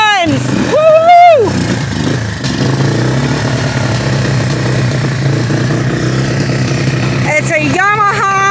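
A carbureted Yamaha TTR 230 dirt bike with a dirty carburetor idles steadily and fairly loudly close by, with a brief rev near the start and another at the end, while people talk and cheer over it.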